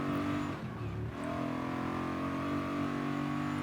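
A car engine revved high through the gears, a loud, close, sustained tonal drone that dips briefly and then climbs back to a steady high-rev whine.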